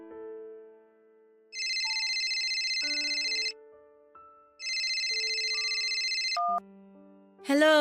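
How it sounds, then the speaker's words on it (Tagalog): Phone ringing with an incoming call: a high, electronic ringtone chime sounds in two long bursts over soft melodic background music, fairly loud and close. "Erwin, gabi na. Napatawag ka"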